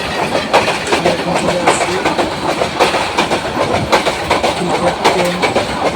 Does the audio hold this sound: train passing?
yes